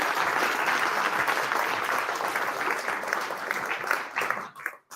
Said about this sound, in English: Once again, big hand round of applause.